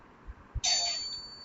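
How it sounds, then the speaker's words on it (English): A doorbell rings once inside a home, a bright sustained chime that starts sharply and rings on steadily, clear and fairly close over a quiet room with a couple of soft thumps just before. "The bell just rang."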